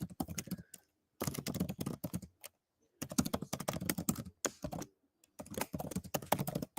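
Someone types on a computer keyboard in rapid bursts of clicking keystrokes separated by short silent pauses, close and fairly clear.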